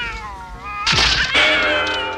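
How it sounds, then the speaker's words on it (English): A cat meows loudly and close by in a rising, drawn-out yowl, followed by a second strained meow with a caterwauling edge, with a faint bright sound under it. "Come here, kitty."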